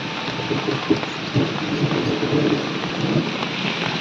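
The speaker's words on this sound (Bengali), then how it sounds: "এত ঝমঝম করে বৃষ্টি ভাই লেভেলে বৃষ্টি পড়ছে" Heavy rain pours down in a steady, dense roar, with drops pattering close on nearby surfaces and occasional low rumbles underneath, and nobody speaks.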